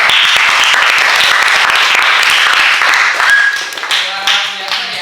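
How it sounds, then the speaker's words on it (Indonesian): Loud, dense applause from a crowd fills a room at a teacher-training performance test session, steady and close, tapering slightly near the end as a few voices and tones emerge. "tepuk tangan untuk kita semua"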